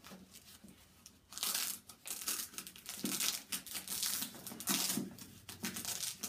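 Waterproof rain cover for a Vanguard backpack being handled and unfolded, giving close, loud bursts of plastic crinkling and crumpling in irregular rustling waves with brief pauses.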